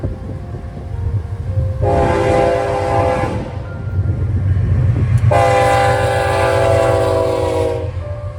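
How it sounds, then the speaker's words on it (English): A westbound BNSF Z intermodal freight led by GE Evolution series locomotives rumbles past steadily, its air horn sounding two long blasts over the continuous rolling roar of the train. "The second to last train was a westbound Z train with nothing but Gevos"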